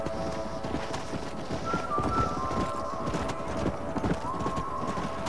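Horses gallop in the Red Dead Redemption video game, with rapid rhythmic hoofbeats pounding steadily, an occasional whinny, and a faint musical tone over the galloping.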